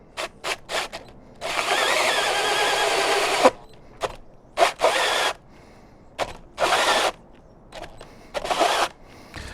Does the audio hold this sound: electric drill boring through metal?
yes